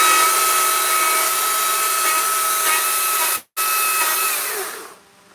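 Electric chainsaw carving a bear from black walnut, running as a loud steady whine with a brief cut-out midway, then winding down to quiet at the end.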